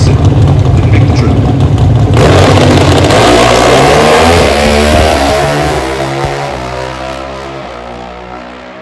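Pro Stock drag racing motorcycles roar through a run at Pacific Raceways during the 2024 NHRA Northwest Nationals, a loud, sustained high-revving engine howl that swells after two seconds, then slowly recedes and fades toward the end.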